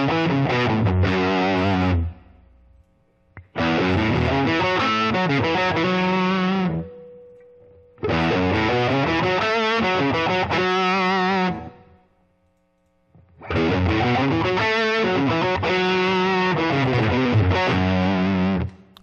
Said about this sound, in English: you can hear a little bit of that extra kind of thump going along with the guitar note.